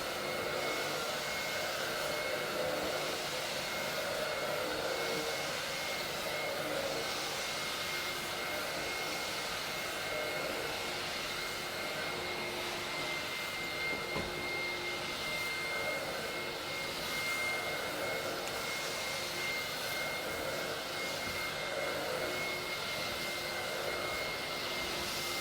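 A carpet cleaning machine making dry passes over office carpet soiled by years of printer dust, giving a steady, loud, continuous motor whine and rushing airflow that runs the whole time without talk.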